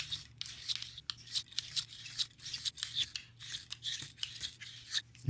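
A cleaning patch on a jag is pushed back and forth through a SIG Sauer P365 pistol barrel, giving a close, quiet series of rhythmic scraping rubs that repeat roughly every half second.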